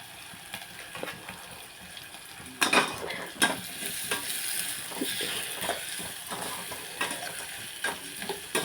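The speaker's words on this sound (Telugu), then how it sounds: "ఉల్లిపాయ కొంతసేపు మగ్గనెట్టుకోండి" Sliced onions with turmeric fry and sizzle in a pan while a spoon stirs them, steady frying with sharp scraping stirs, louder from about three seconds on; no talking.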